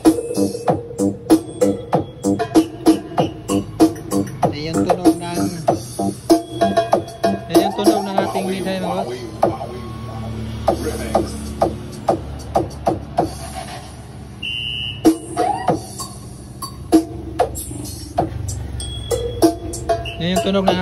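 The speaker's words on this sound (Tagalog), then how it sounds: "Yan yung tunog ng ating mid-high mga boss." Four mid-high speakers run together through a two-way crossover setup with two equalizers, playing loud, dense music with steady rhythmic punches and a low bass line throughout.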